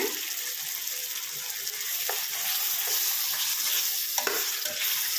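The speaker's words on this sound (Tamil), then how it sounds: "நான் குழம்புல இருந்து எடுத்த கறியை தாங்க இப்போ ஃப்ரை பண்ணுறேன்" Mutton pieces taken from a watery curry sizzle in a pan as some of the thin gravy is added, a steady close bubbling hiss with a few clinks of stirring.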